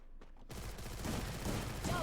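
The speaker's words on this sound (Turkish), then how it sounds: "Lan pompalı pompalı atıyorlar." Pump shotgun fire in the Free Fire Max game, a cluster of blasts heard at a distance, rumbling fairly faintly after a quiet start, with voices faint in the background.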